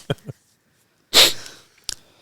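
A single forceful sneeze bursts out up close, with a couple of quick sniffs before it and a short breath afterward.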